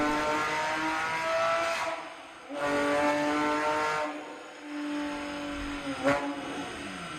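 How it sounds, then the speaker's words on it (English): A Porsche 997 911 GT flat-six engine revs loudly and up close, rising and falling in three long pulls separated by brief lifts off the throttle, with no talking over it. "So as you can hear, probably the best sounding flat six."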